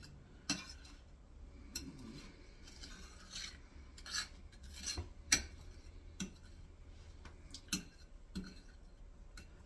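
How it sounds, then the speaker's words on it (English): A spatula scrapes a butter mixture down the sides of a bowl, soft irregular scrapes and light taps close by, quiet throughout. "I'm just scraping it down to make sure I got all this butter and everything stirred in really well"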